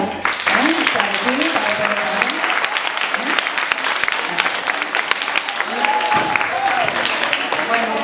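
A school cultural-week music audience applauds steadily and loudly throughout, with voices chattering and calling out over the clapping.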